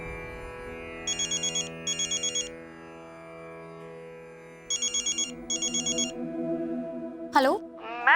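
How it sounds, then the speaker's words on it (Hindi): A telephone rings with a call from the hospital: two quick pairs of trilling bursts, clear and fairly close, over a soft musical underscore, followed by a brief whooshing sound effect. "नीता के हॉस्पिटल से फोन क्यों आ रहा है?"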